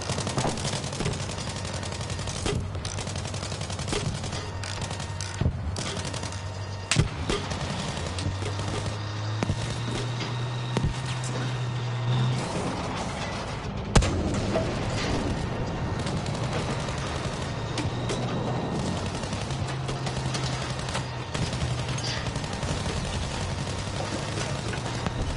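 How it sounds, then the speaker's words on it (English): Grenade launcher blasts and constant gunfire in Battlefield V, a dense, steady battle din of repeated shots and thumps with a low droning engine hum underneath, with no clearly separate explosion standing out. "what the hell is lobbing all these grenades?"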